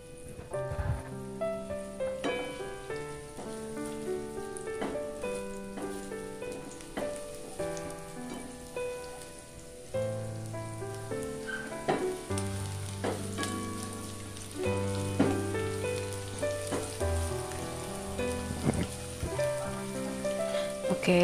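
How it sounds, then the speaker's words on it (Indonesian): Shallots and garlic sauté in a Neoflame non-stick pan, a steady soft sizzle running underneath prominent background music throughout. "kita masukin bawang merah, bawang putihnya, tumis-tumis sampai harum"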